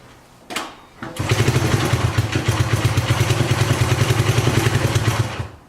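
A 1975 Honda CB125S motorcycle engine turns over with a brief crank, then catches and runs for about four seconds at a rough, rapid, loud single-cylinder chug before cutting out abruptly.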